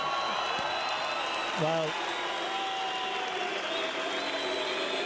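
A Lithuanian boxing crowd gives light, steady applause with mild cheering after a bout's decision, a spread-out patter of clapping under a commentator's talk.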